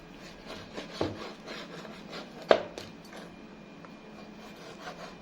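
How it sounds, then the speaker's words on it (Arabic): Knife slicing raw liver into small pieces on a cutting board, faint soft scraping strokes with a couple of sharper taps, heard up close in a quiet kitchen. "فانا ايه هقطع كل الكبده كده اهو بالطريقه دي"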